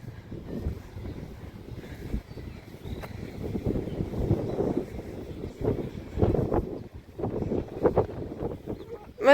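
Wind buffeting an outdoor microphone as a dog trainer talks, a steady low rumbling roar with gusty swells throughout.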